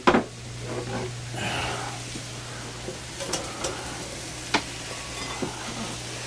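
Food frying in grease in a cast iron skillet fitted with an improvised fry lighter, giving a steady close sizzle with a few sharp knocks and clatters of utensils.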